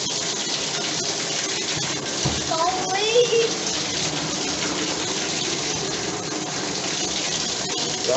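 Water runs from the tap into a home bathtub after a hot water heater replacement, a steady loud hiss and gush throughout, with a voice briefly speaking over it.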